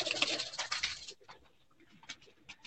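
A flock of 41-number teddy pigeons coos close by, a thick burst of overlapping calls for the first second, then sparser, softer coos and rustles trailing off.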